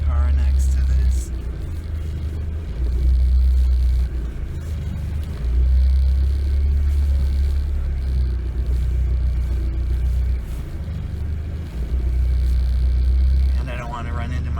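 A 1986 Ford Escort diesel wagon creeps into a garage, its engine giving a steady low rumble and drone that swells and dips slightly with throttle, with a person talking over it.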